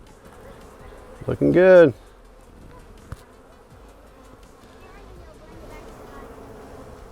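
Honey bees buzz in a short, loud, close burst during a beehive inspection, then fade to a low hum of the hive. A person speaks briefly.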